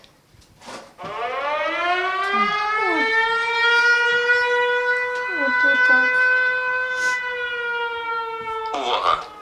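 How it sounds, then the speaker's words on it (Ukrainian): An air raid civil defense siren wails steadily and loud for several seconds in Pavlohrad, its rising tone holding a long sustained pitch, while a few brief voices speak faintly underneath. "Повітряна тривога."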